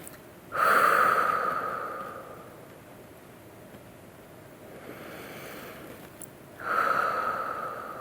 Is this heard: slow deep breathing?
yes